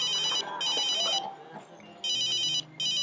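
A phone ringtone plays in two repeated bursts of bright electronic trilling, separated by a short gap, over faint background sound in a scene from a South Indian film dubbed into Hindi.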